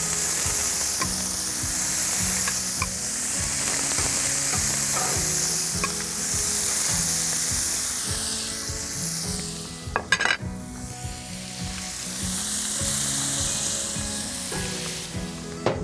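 Small blackened panfish fillets frying in butter and oil in a pan, a loud, continuous close sizzle with some spatter pops and a brief clatter of utensils partway through, no voices.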